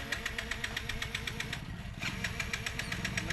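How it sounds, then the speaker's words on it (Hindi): A motorcycle engine starting on a home-built helmet-interlock bike, settling into a steady, rapidly pulsing idle that stays loud and close throughout, with a brief dip in the middle. "देखिए गाड़ी स्टार्ट हो गई है"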